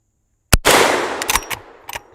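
Henry lever action rifle fired at targets on an outdoor range: one sharp crack opens a long, decaying echo, followed by a few more cracks spaced unevenly and heard up close.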